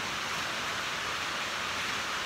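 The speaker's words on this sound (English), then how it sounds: "It's pouring outside." Heavy rain pouring down outside, a steady, even hiss of dense rainfall with no breaks and no voices.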